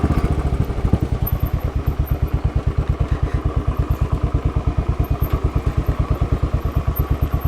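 A new Royal Enfield Bullet 500 motorcycle thumps along in a steady, rapid single-cylinder beat, loud and close throughout.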